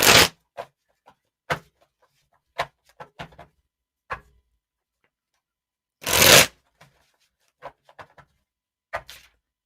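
A deck of cards is shuffled for a tarot-style reading, with two long riffle bursts and scattered sharp taps and flicks of cards being handled between them. The sounds are close and isolated, with no talking.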